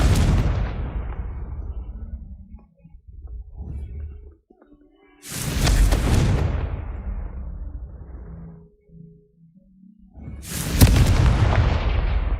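Confringo fire spell explosions in Hogwarts Legacy, three loud booming blasts a few seconds apart, each bursting sharply and rumbling away into quiet, with faint game sounds in between.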